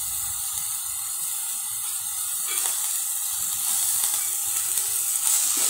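Green moong beans, sprouted, tipped into a hot pan and sizzling, a continuous bright hiss that swells slightly partway through, close and steady, with no voices.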